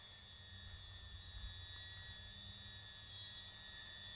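A SNAPTAIN H823H Plus mini drone hovers nearby, its small propellers giving a steady high-pitched whine with a constant tonal hum, faint and unbroken with no talk.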